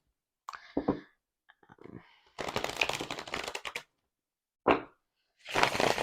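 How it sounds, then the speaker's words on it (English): A normal-size tarot deck is riffle-shuffled in separate bursts, each a rapid crisp flutter of card edges followed by soft taps, with quiet gaps between. "But this shuffle's perfect because it's normal tarot size."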